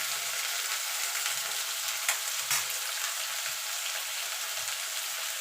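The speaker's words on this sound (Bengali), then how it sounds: "এবার উচ্ছেটাকে একটু ভাজা ভাজা করে নেব" Bitter gourd fries in hot oil, giving a constant, even hiss of sizzling with a couple of brief crackles and soft low bumps from the pan.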